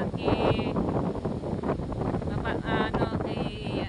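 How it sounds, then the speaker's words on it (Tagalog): Strong wind buffets a microphone at the seashore, with a loud, continuous roar and gusts. Fainter tonal sounds come and go underneath it. "Lakas po ng hangin, oh."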